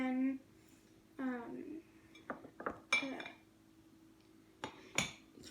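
A spoon stirring a yeast and sugar mixture for pizza dough, giving scattered clinks and taps against a bowl in short irregular bursts, with a voice between them.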